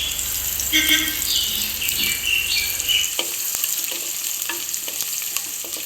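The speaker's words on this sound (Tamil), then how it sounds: "இப்போ வடகம் நமக்கு நல்லா பொரியுது" Vadagam and garlic frying in a pan, with a loud crackling sizzle and stirring scrapes that settle into quieter sputtering pops. A running tap trickles in the background.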